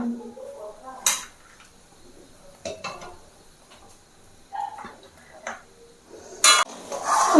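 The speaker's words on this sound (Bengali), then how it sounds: "এবার আমি এখান থেকে দু হাতা দুধ তুলে রাখবো একটা বাটিতে" Boiled milk ladled from a pot into a bowl, marked by several sharp metallic clinks and scrapes of the ladle against pot and bowl, separated by quiet gaps with faint liquid sounds.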